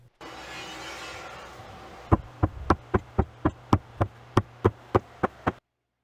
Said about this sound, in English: I grab a punch to mark all of the bolt locations for the C-channel